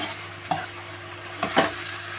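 Eggplant, onion, tomato and ginger-garlic paste sautéing in a pan for a Tamil fish curry, with a soft sizzle under a low hum and two sharp scraping stirs.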